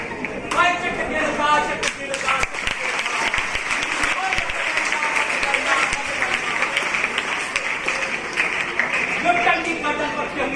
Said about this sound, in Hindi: दर्शकों ने तालियां बजाई।